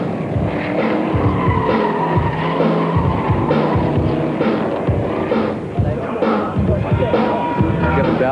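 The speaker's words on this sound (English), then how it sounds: "Siebert way too fast into the corner, off his line, got the car sideways right off onto the dirt." A race car at a 1990 Players GM motorsport race skids sideways off the corner onto dirt, with loud sustained tire squeal and engine roar. A commentator talks over it throughout.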